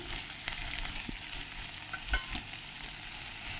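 Spring onion and peanuts stir-fried in a pan, giving a low continuous sizzle with occasional soft spatula taps and scrapes, moderately close and without any voices.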